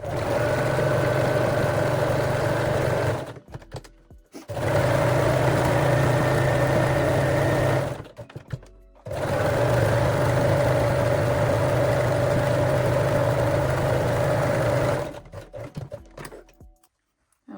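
Sewing machine stitching fabric in three long steady runs, a close, even motor whir with brief pauses between seams.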